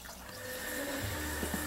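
Water pours steadily into a 130-gallon aquarium being filled for an axolotl, a continuous rushing and splashing wash at moderate level with no voices.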